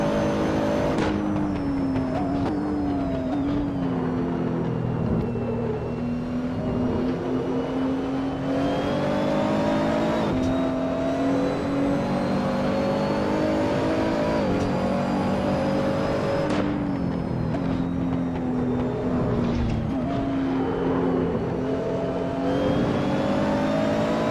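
A Nissan GT-R race car drives out of the final corner at Imola in Assetto Corsa, its engine droning loud and close with rising revs and several gear changes, the pitch climbing and resetting repeatedly.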